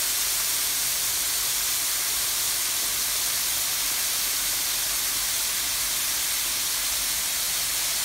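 Sliced onions sautéing in a pan with salt for a prawn curry, a steady, even sizzling hiss that runs unbroken and fairly loud throughout, with no voices.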